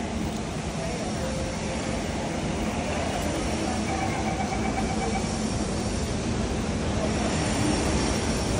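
A train at a platform at Jurong East station hums and rumbles steadily nearby, a constant loud mechanical drone with a faint whine, no clear speech.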